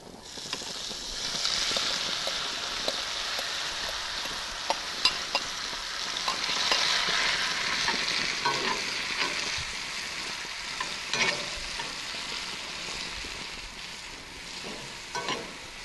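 Cold apple slices hit melted butter on a grillstone skillet, a broad soft sizzle that swells and eases, dotted with faint clicks of stirring.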